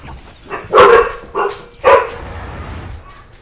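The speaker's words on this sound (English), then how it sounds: "sorry about that, that's my dogs" Several dogs bark in short loud bursts, three barks close together in the first two seconds, then quieter background noise follows.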